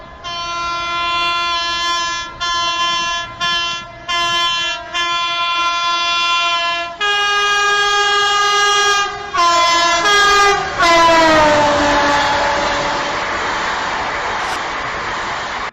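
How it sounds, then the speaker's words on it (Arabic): An Egyptian Turbini train sounds its melodic multi-tone horn while entering a station: a loud series of short chords, then longer held blasts that slide lower in pitch as the train passes, with rail rumble underneath. "قطار التوربيني كان ليه هيبة وهو داخل المحطة، وكمان مشهور بصوته اللي زي اللحن"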